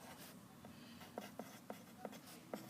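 Pen or pencil writing out a math expression, a series of short scratchy strokes and taps in a quiet room.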